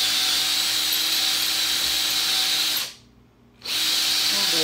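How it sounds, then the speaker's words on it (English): A power drill bores a hole through metal using a Cobra Engineering drill fixture, whining loudly and steadily, then briefly stopping before spinning up again at full volume. "Take a drill, chuck up the drill bit."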